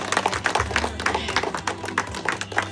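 An audience claps at a stage event honoring a mother, with a steady run of overlapping handclaps over a low sustained hum.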